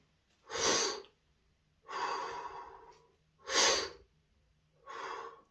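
Four slow, deep belly breaths demonstrated close to the microphone, alternating long whooshing inhales and exhales with short quiet pauses between, no talking.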